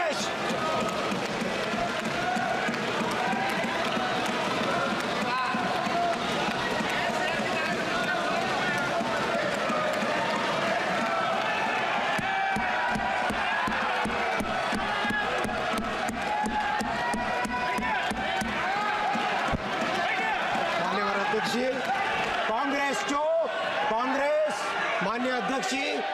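Large outdoor political crowd chanting "go back" slogans during a railway minister's speech, a dense roar of many voices with rhythmic shouted bursts, loud and continuous, with amplified speech mixed in.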